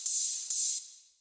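Sampled hi-hat layer for a raw techno track: two bright, hissy open-hat hits, the first ringing about half a second and the second cut off sooner, then a short fade, heard alone.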